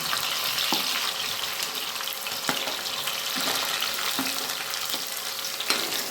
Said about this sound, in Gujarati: તેલ ગરમ થઈ ગયું છે આપણે એમાં પહેલાં ડુંગળી એડ કરી દઈએ